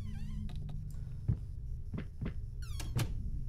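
A metal gate shuts behind the player in the video game Lay, with squealing creaks, sweeping metallic tones and several dull clanks over a low background hum.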